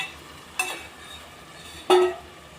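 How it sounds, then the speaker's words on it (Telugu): A yogurt mixture added to ginger-garlic paste frying in oil, two brief splashy hisses over a low, steady background. "మనం ముందుగానే కలిపి పెట్టుకున్న ఈ పెరుగు మిశ్రమాన్ని ఇందులోకి వేసుకోవాలి"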